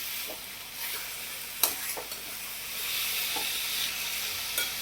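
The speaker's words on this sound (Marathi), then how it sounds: "आता यामध्ये इलायची पावडर घालून घेऊया आणि अजून एकदा छान मिक्स करून घेऊया" Carrot halwa is stirred in a pan after cardamom powder goes in: steady hissing sizzle with occasional scraping strokes of the spoon, close and continuous.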